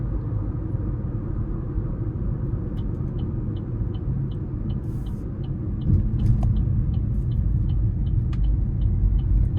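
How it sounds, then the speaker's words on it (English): 2026 Chevy Trax 1LT with its 1.2-liter turbo engine pulling hard up an interstate on-ramp, a low steady engine drone and road rumble from inside the cabin, swelling slightly louder near the end. "Now I'm gonna try to give it a pull getting on the interstate here."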